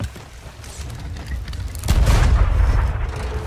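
Ship cannons fire in the pirate video game Sea of Thieves, a dull rumbling boom that swells midway and lingers over steady background game noise.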